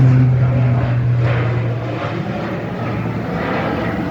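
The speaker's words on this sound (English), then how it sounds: "there goes the planes again" A crop-dusting propeller airplane flying overhead, a loud steady engine drone with a low hum that shifts as it passes, close and alone without talk.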